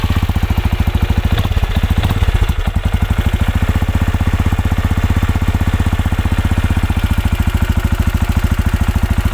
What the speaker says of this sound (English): So this is the idling sound.